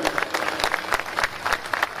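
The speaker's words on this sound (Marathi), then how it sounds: "एकदा जोरदार त्याच्याकरता आपण टाळ्या वाजवूयात." A ceremony audience claps loudly and steadily for a woman honoured at a Dhamma Pahat event for her UPSC exam success, the applause filling the whole stretch with dense, even clatter.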